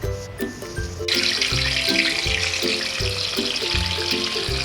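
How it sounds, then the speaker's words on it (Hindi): Chicken sizzling in a pan for a restaurant-style chicken roast korma, a steady bright frying hiss that swells early and carries on evenly under rhythmic background music. "अब हमने सबसे पहले चिकन को फ्राई करना है।"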